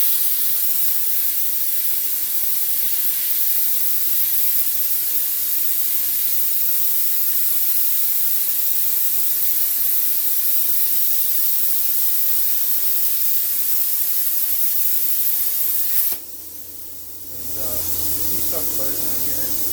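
A Bestarc BTC800DP plasma cutter set to 25 amps cuts through metal with a loud, steady hiss. The sound breaks off briefly near the end, then resumes, and it stays close and constant throughout.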